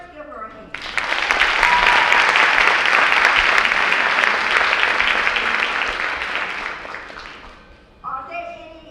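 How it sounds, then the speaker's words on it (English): An audience at a sorority chapter event bursts into sustained applause, loud and dense clapping that swells, holds for several seconds and tapers off before a voice speaks briefly at the end. "So let's give her a hand."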